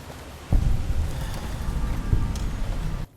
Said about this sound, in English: Does look like there's two different rains here.